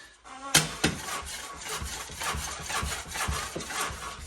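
Steel trowel burnishing Venetian plaster on a wall, a steady rapid series of scraping, rubbing strokes after a sharp start, fairly close and continuous with no talking.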